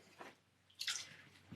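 Water added to a clay pot spinning on a potter's wheel during trimming, a faint wet dribble followed by a brief, brighter splash and squish, quiet and close.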